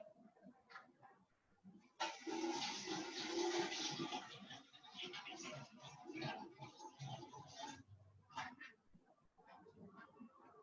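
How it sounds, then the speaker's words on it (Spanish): Water is poured into a small glass, a steady rushing splash that runs for about six seconds at close range before trailing off, with quieter room sounds around it. "estoy sirviendo un vasito con agua"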